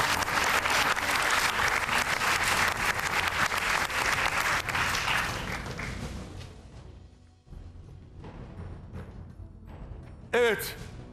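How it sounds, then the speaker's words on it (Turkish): A studio audience applauds two dance couples at a Turkish TV dance competition show: dense, loud clapping that thins and fades after about six seconds, then lingers softly before a brief voice rises near the end. "Şimdiden çok teşekkür ediyoruz ve alkışlıyoruz iki çifti de."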